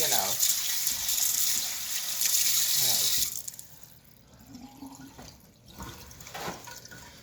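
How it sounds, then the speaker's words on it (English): Tap water runs into a measuring cup to rinse out cooking oil, a loud bright gush for about three seconds that then cuts off, followed by quieter dripping and kitchen clatter. "Now what I have to do is I have to wash the oil out. A little bit of water."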